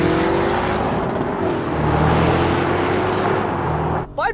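A BMW X4M, AMG G63, Porsche Cayenne Turbo and Bowler Bulldog V8 drag race side by side, a loud sustained engine roar that swells mid-run before cutting off abruptly, with brief talk at the end.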